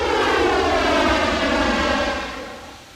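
Simulated ToLiss A320 airliner touching down firmly in X-Plane 12, a loud steady jet engine roar with a rising whine that holds, then fades after about two seconds, with no voices.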